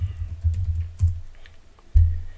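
A few soft, uneven keystrokes on a computer keyboard are separated by short pauses, with a firmer tap near the end, quiet and close.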